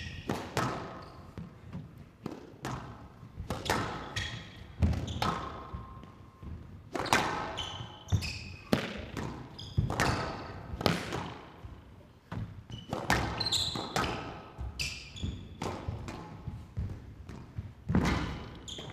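Squash ball shots at the 2015 PSA World Championships: sharp racquet strikes and ball thuds off walls and floor in a quick irregular rally, with squeaking shoes and faint commentary underneath.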